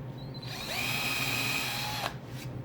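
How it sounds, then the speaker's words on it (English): A power drill bores a pilot hole into the center of a wooden bowl blank, whining as it spins up, holding a steady high pitch for over a second, then cutting off abruptly, close and clear. "Let me get my drill and let me just drill a little pilot hole in the center."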